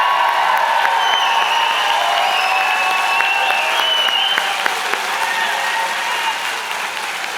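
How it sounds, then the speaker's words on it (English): A large convocation crowd gives a sustained round of dense applause and cheering for the 2019 graduating class, loud and steady throughout with faint whoops mixed into the clapping. "How about one last huge round of applause and cheer for all the graduating class of"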